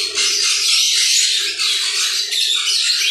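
Pineapple red factor conures squawk nonstop, sharp and harsh calls crowding together close by in an aviary breeding setup.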